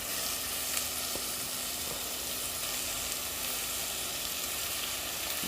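Peppers frying in a pan with a steady, even sizzle and faint crackles, close and continuous with no talking.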